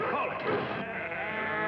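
Sheep bleating as a flock is driven along a farm path, several close, wavering calls overlapping one another with a voice speaking briefly over them.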